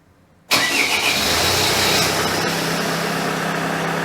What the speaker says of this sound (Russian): Запускаем автомобиль.